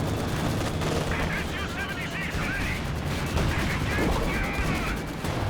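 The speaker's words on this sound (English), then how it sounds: "Here goes the Katyusha." Katyusha rocket artillery fires in Company of Heroes 2 under a dense, loud wash of battle noise, with rockets and gunfire overlapping and a commentator's voice faintly mixed in.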